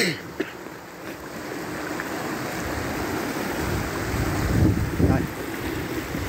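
A mountain stream near Da Lat, Vietnam, rushes steadily outdoors as a broad, continuous wash of flowing water, loud and close, with wind buffeting the microphone and no clear talk over it.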